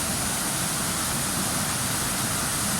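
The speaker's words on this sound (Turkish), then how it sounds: "Evet, Bozdoğan Şelalesi." The Bozdoğan waterfall in the Taurus Mountains near Mersin roars as a loud, unbroken wash of rushing water close by, steady throughout with no voices.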